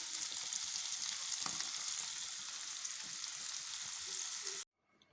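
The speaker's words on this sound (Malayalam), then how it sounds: "ആ മത്തി ഞാൻ അരമണിക്കൂർ വെള്ളത്തിലിട്ട് വെട്ടിയെടുത്ത് വറക്കാൻ അടുപ്പിൽ വെച്ചു" Sardines fry on a stove, giving a steady, fairly quiet hiss of sizzling oil that runs for several seconds, then cuts off abruptly near the end.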